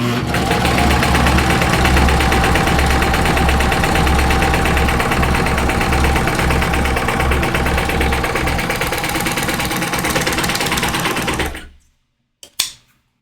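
A serger running steadily as it stitches a rolled hem along a fabric edge, a loud, fast mechanical chatter that holds for about eleven seconds and then stops, followed by a couple of small clicks.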